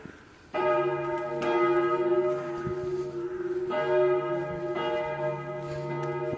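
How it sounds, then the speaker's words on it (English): Church bells ring out in Limoges, strong sustained peals struck in two rounds with a lingering hum between strikes, close and loud over faint outdoor background. "The bells."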